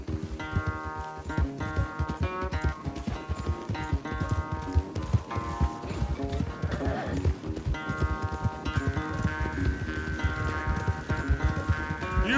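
A horse gallops in a race in the Western video game Red Dead Redemption 2, rapid clip-clop hoofbeats running steadily under a musical score, with a brief whinny and some background voice.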